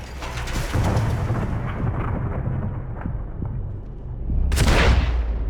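Gunfire in the video game Max Payne 3, heavy booming shots and rumbling blasts rolling continuously, with a loud burst near the end, no talk over it.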